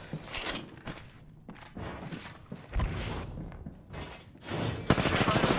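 Bursts of gunfire in the Apex Legends shooter, repeated volleys and thuds of varying loudness over a few seconds, ending in dense rapid shooting, with players talking over it.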